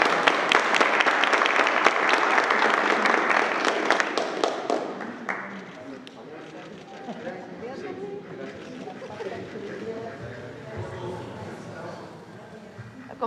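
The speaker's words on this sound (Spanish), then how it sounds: "Un aplauso a todos." Applause fills a room at a morning press conference, loud sustained clapping for about five seconds before it dies down, with voices talking underneath afterward.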